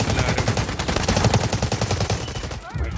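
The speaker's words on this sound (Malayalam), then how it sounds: "അവര് കാര്യമായിട്ട് വെടിക്കുന്ന തന്നെ." Rapid automatic gunfire from the Delta Force Mobile video game's warfare mode rattles in dense, loud bursts of closely spaced shots, cutting off briefly near the end.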